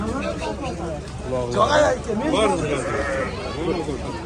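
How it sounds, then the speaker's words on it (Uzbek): Sheep bleat in a wavering chorus at close range, several animals calling over one another, with people chattering in the background. "Maşallah, qo'ylar qarang"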